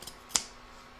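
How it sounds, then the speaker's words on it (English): A single quick snip of scissors cutting fabric toward the stitching on a sewn toy, close and crisp, in a quiet room. "I'm going to cut towards the stitching"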